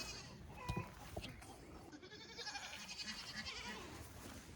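A pregnant goat bleats in a farm setting, with a loud, wavering cry early on followed by a shorter call. Softer animal and background sounds continue afterward, and a voice is faintly present.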